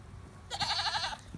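A goat, one of a farm herd, gives a single loud, wavering bleat lasting under a second, close by against a quiet background.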